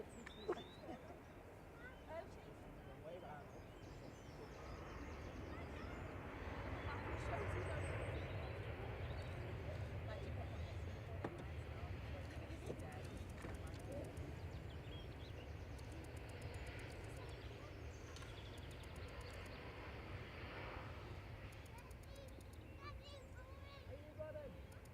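A Singapore Airlines Airbus A350-900 touches down at Manchester Airport, a steady distant jet roar that swells slightly then holds, with people talking over it.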